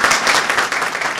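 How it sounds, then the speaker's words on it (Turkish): A brief burst of audience clapping at a Turkish political rally speech in Dalaman, a close, loud, dense patter lasting only a moment. "belediye başkan yardımcıma bir alkış istiyorum"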